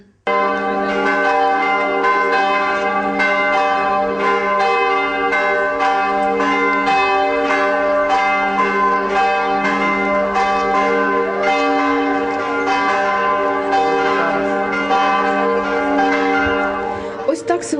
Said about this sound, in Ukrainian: Напередодні церковні дзвони скликали християн до кафедрального храму.